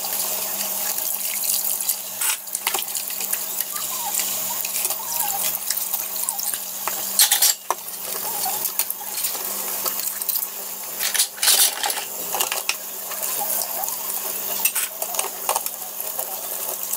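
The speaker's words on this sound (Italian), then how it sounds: "io vado a lavare i piatti" Dishes are washed under a running tap at a kitchen sink: a steady stream of water runs close by, with scattered clinks of cutlery and plates knocking together throughout.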